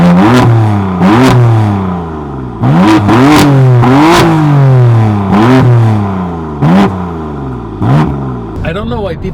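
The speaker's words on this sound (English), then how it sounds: "the exhaust is not super loud, but it's considered to be loud in Sports Plus" BMW M4 exhaust revving in Sports Plus mode, several sharp throttle blips rising and falling in pitch, loud and close, each rev ending with a crackle as the engine settles back down.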